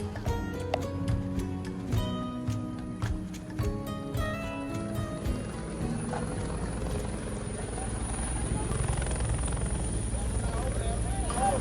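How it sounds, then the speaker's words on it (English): A military helicopter's loud, steady rotor and engine roar fills the scene in Siargao, Philippines, after Super Typhoon Odette, with voices talking underneath. "I think a military helicopter just landed here"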